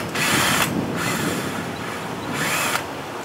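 A cordless power drill tightening a battery terminal while a 12-volt outlet is fitted to a scooter or motorcycle, whirring loudly in three short bursts, close up, with no talking.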